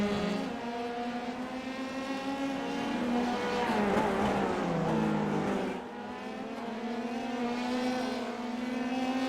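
Race cars on a circuit in an Indian racing series, engines droning at high revs as one car swells louder while passing close, then fades as the engine tones carry on.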